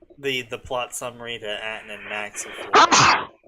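A person talks, then a loud, sharp sneeze bursts out near the end.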